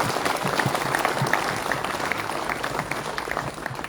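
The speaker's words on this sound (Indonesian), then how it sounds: "Ayo tepuk tangan lagi." Students clapping together in a school assembly hall, a sustained broadband wash of many hands with scattered sharper claps standing out, continuous and fairly loud, no talk.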